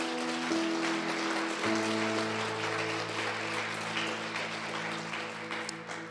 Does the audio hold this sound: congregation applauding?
yes